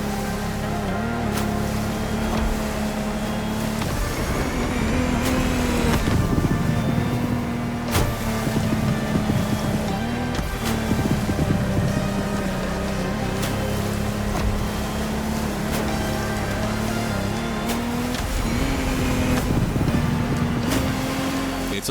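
A Lamborghini Technomar powerboat's engine in the racing game The Crew Motorfest, a steady loud droning roar with tonal whine over rushing water and wave splashes, continuous throughout at close range.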